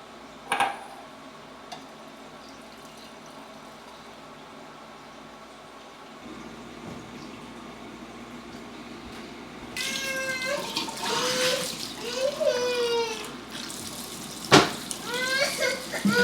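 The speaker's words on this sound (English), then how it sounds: "Mama needs to do all of these dishes." Breakfast dishes are washed in a kitchen sink, with running tap water and clinking plates rising after a quiet start. A cat meows nearby several times over the splashing.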